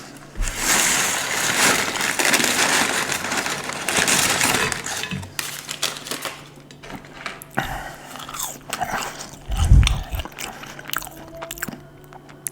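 Close-up ASMR eating of cheeseburgers and fries: soft bites, crunches and wet chewing come in irregular bursts, quiet and intimate, with a few louder crunches near the end and no talking.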